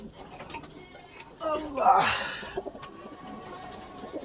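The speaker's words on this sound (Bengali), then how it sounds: "ছোট্ট একটি নর কবুতর" A small male pigeon held in the hands gives a short throaty coo midway through, close and fairly soft against a quiet background.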